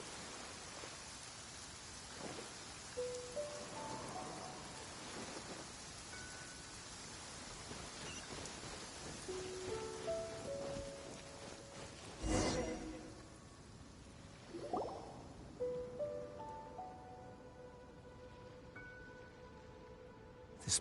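Rain falls steadily in the video game Genshin Impact as a soft, even hiss. A louder burst comes midway, and faint tonal game chimes sound over it.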